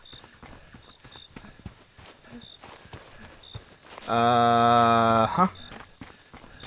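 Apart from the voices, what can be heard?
footsteps in a found-footage video game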